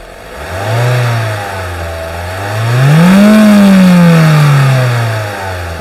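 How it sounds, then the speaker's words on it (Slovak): A Mazda 5 with a 1.8 petrol engine (85 kW, L8) is revved up from idle twice, a short blip then a longer climb to high revs that holds and eases back down, loud and close with no talk. "Ja teraz pridám otáčky tomu motoru."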